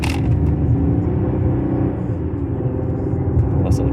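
A 2005 Mercedes-Benz E320 W211 accelerates on the road, its engine giving a steady, loud low rumble that builds through the run, with road and tire noise underneath.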